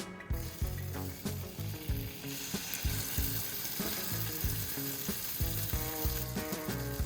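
A French toast peanut butter and jelly sandwich fries in a hot pan, with a continuous dense sizzle and crackle that stays steady throughout, no voices.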